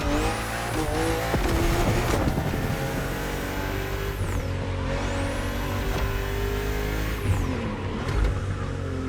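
BMW M2 and M4 cars race in The Crew Motorfest, engines roaring loud and steady with high revving whines rising and falling through gear changes and occasional tire squeal on tight bends.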